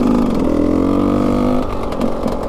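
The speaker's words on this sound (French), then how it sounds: "la moto en fait elle était trop froide, j'avais pas mis le starter" A cold KTM 125 EXC two-stroke dirt bike engine with the choke off, revving loud and close, a steady buzzing drone that rises in pitch then drops back unevenly with some clatter.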